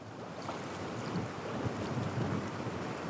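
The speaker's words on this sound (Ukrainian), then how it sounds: "Щось вітер такий піднявся" Steady gusting wind buffets and rumbles close to the microphone while fishing, with a faint wash of water in the background.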